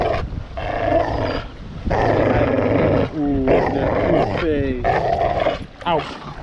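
A dog growls and roars in rough, loud bursts close by, broken by brief gaps and rising whine-like yelps.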